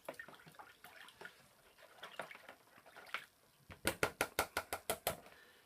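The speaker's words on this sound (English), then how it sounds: "Now we give it a little rinse." Water rinses over a wet-sanded scale model car, starting with soft irregular splashing and trickling, then a quick run of about ten sharp, evenly spaced splashy bursts close by.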